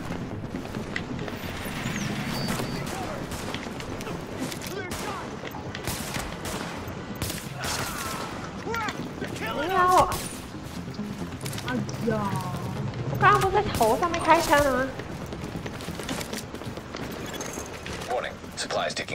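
Gunfire in the video game The Division during a defence of a supply drop, with bursts of rapid automatic shots and scattered single cracks under players talking and in-game voices.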